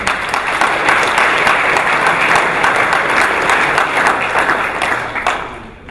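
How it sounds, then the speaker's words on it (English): A full room claps for the master of ceremonies at a softball hall of fame induction ceremony, loud dense applause sustained for several seconds before tapering off at the end. "So, really, round of applause for him."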